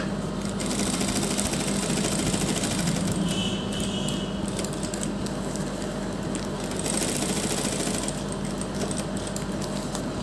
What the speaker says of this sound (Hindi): देखिए हम पेपर के तीनों तरफ इस तरह से किनारे किनारे पर सिलाई लगाते हुए हम इसे कंप्लीट कर देंगे।